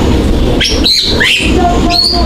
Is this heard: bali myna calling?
yes